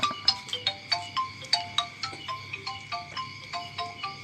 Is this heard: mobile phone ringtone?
yes